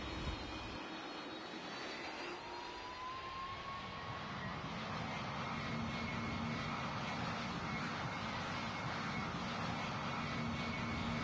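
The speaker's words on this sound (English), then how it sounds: "I'm just testing it with the Airbus Beluga. So yeah, let's go ahead and pull onto the runway and we'll depart here." In a flight simulator game, an Airbus Beluga cargo jet spools up and rolls for takeoff. A loud, continuous jet-engine roar builds and holds steady with a faint rising whine, and nobody talks over it.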